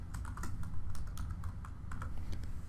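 Rapid, close clicking of computer keyboard keys as a worksheet name is typed, an irregular stream of light taps with no talking.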